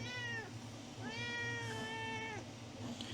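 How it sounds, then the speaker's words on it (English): A ginger cat gives two drawn-out meows indoors, the first short and the second long, rising and then falling, loud and close over a low steady background hum. "see if you want to say something, Ginger Cat."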